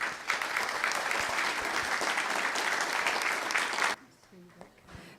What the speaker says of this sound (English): Please help me give another round of applause to Sally for all her tireless work after all